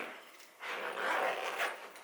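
A zipper pulled open on a side compartment of a Peak Design Everyday Backpack 30L, a rough, scratchy run of rasping lasting over a second, close and fairly quiet, with no talking.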